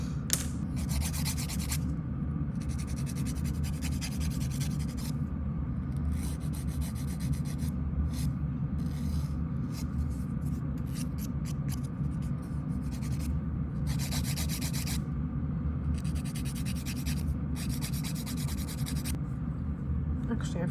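A buffer block rubs back and forth across fingernails, producing a close, continuous scratchy rasp in rhythmic strokes with brief pauses between bursts, over a low steady background hum.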